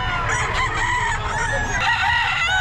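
Several chickens cluck and a rooster crows amid a busy poultry market din in Bulacan, the calls overlapping and close by.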